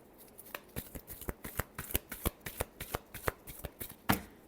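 Tarot cards being shuffled, a quick steady run of crisp riffling flicks, close and fairly soft, with no talk over it.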